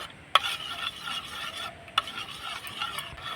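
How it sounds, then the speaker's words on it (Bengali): Sweet yogurt is stirred into milk in a bowl for a flattened-rice dessert, giving soft, continuous close-up swirling with two sharp spoon taps against the bowl. "দইটা দিয়ে আমি ভালো করে মিশিয়ে নিব"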